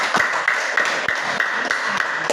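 Scattered hand claps from a classroom audience applauding a group presentation, sharp and uneven, with a few distinct claps spread over a short stretch.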